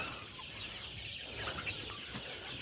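Chickens clucking faintly in a backyard coop under a cloudy sky, a soft steady scatter of calls over low background noise with no clear voices.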